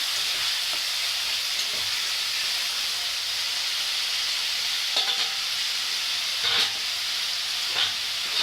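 Spices frying in a generous amount of oil for a nihere fish curry, a steady bright sizzle with occasional stirring scrapes and small pops, close and continuous with no talking.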